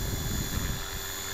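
A radio-controlled 450-size flybarless helicopter hovers in strong wind, its rotor and motor a steady, loud whine with gusty low buffeting throughout.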